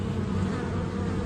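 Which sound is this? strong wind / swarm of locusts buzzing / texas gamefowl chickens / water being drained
swarm of locusts buzzing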